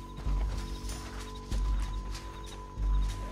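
Horse hooves clopping in Red Dead Redemption 2, a steady rhythmic gait heard close over low rumbling game ambience with a sustained tone, no talk.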